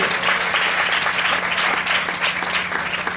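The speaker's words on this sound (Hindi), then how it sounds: "ताली बजाओ, प्रभु को धन्यवाद करो।" A congregation at a Hindi Christian church service claps steadily and loudly throughout, a dense continuous applause with no break.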